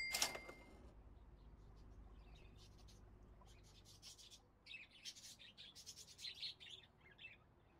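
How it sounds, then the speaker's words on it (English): Birds in the Exotica Pet Shop Simulator game chirp and tweet in quick clusters of bright, high calls, sparse at first and then busier, over a quiet low background rumble. "I love the sound of the birds."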